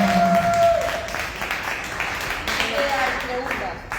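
Audience applause at a conversatorio with Norma García Conde, a steady crowd clapping that fills the room for several seconds, with some voices mixed in.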